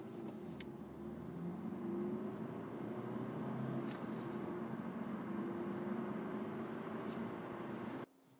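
A 2016 Honda Civic Si with a 1.6 i-DTEC diesel engine accelerates from a standstill, a steady droning hum rising slowly in pitch for about eight seconds before cutting off abruptly, heard from inside the cabin.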